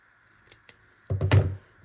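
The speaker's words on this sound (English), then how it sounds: "you can just slightly trim this edge off" Paper edge being trimmed with scissors during junk journal crafting: a quick burst of two or three close snips, crisp and fairly loud, after a couple of faint taps, with no talking.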